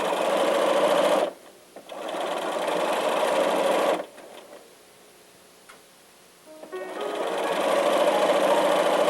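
A sewing machine stitches a quarter-inch seam joining two pieces of fabric, running steadily and loud, pausing briefly, then dropping to a quiet stretch of faint ticking before resuming its continuous whir.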